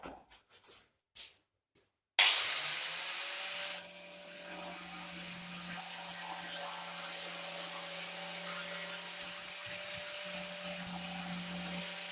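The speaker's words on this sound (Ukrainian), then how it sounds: "беремо болгарку і зачищаємо до блиску металу" An angle grinder strips paint from damaged car body metal down to bare shine, a loud sustained abrasive whine and scrape after a few brief bursts and a startup, running steadily to the end.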